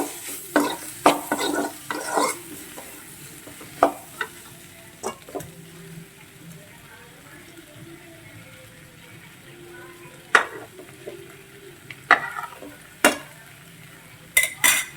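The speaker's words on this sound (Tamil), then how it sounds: "இப்போ ஒரு பரட்டி விட்டுட்டு" A spoon stirs onion egg gravy in a pan, sending sharp scrapes and clinks at irregular intervals over a soft, steady simmering hiss.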